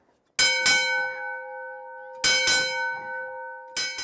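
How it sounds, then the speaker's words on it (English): An original 1913 ship's bell is struck for seven bells: loud, close clangs come in quick pairs, each ringing out with a long, humming decay between strokes. "This would be the original ship's bell from 1913"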